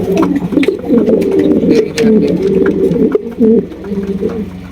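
Black lace modern Dhakaiya pigeons coo close by in a steady, throaty rolling pattern, repeated phrases following each other almost without pause.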